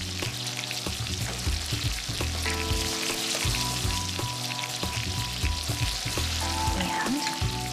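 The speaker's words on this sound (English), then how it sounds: "I'm gonna take them out and toss it right in with the brown butter sauce." Ravioli tossed in a pan of sizzling balsamic brown butter sauce, with a steady, close frying hiss and occasional stirring scrapes throughout, no voices.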